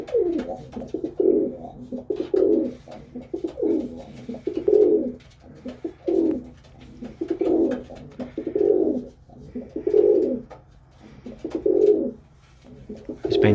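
Racing pigeons in a loft give repeated throaty coos in steady rhythmic bursts, close and fairly loud over soft background hum, with no one talking.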